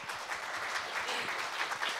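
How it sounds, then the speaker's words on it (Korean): Audience at a health awareness concert event applauding, a short burst of dense clapping from a seated crowd, steady and fairly close. "박수 한번 쳐주세요"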